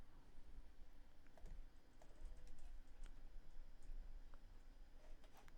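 Fingers type a command on a computer keyboard at a CAD workstation, a steady run of quick, close key clicks over a low room hum.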